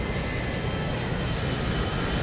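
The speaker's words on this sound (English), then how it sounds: "I can't even hear my own plane compared to these jets outside" Jet engines of aircraft outside in the video game Microsoft Flight Simulator: a loud, constant roar with a steady high whine running through it, unbroken from start to finish.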